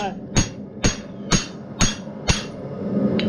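Steady hammer blows ring out on hot metal as a blacksmith forges a leaf, five sharp, evenly spaced strikes drawing and flattening the stock, loud and close with no talk.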